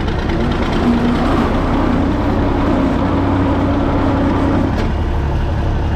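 An International Harvester 1066 tractor runs in second gear, high range, as a loud, steady low engine rumble that continues without a break and stays close, with no talk over it.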